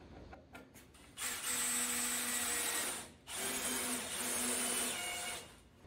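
A power drill drives 3.5 inch screws into wood while building a rack for bicycle frames and wheels, two loud sustained whirring bursts separated by a brief pause, with no talking.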